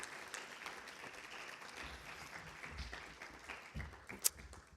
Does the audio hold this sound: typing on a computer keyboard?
no